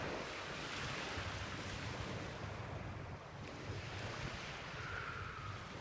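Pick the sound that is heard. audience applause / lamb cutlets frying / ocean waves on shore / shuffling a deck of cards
ocean waves on shore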